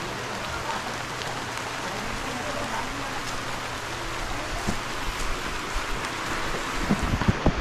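Steady outdoor rain falls as a dense, even hiss that continues throughout, with a few louder knocks and drips near the end.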